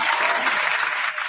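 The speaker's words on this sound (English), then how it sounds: "Daniel, hit the applause, man." Applause sound effect played on cue during a music and interview show, a dense burst of clapping that is steady and loud throughout this short stretch, with no talk over it.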